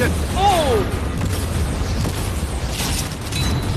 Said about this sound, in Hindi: वो कैनन जैसे आर पार हो रहे हैं जैसे वो बटर हो।